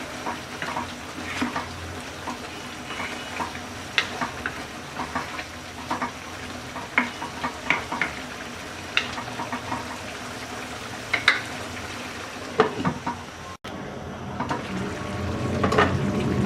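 Malabar spinach with a hilsa head cooks on high heat, giving a steady, moderate sizzle and bubbling with scattered clicks and stirring scrapes, growing slightly louder near the end.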